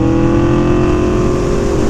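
An Aprilia Tuono V4 1100 Factory motorcycle engine runs loud and close under acceleration, a steady buzzing V4 drone with rising harmonic tones.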